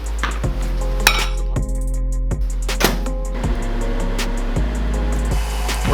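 Butter is stirred in a mixing bowl for donut dough, giving repeated sharp clinks of a utensil against the bowl at a steady pace over a constant low hum.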